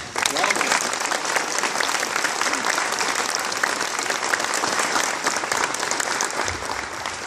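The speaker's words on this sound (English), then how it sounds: "If you'll join in a big round of applause." An audience claps in sustained applause for teachers at a sixth grade school promotion ceremony. The dense clapping holds steady for several seconds before easing slightly at the end.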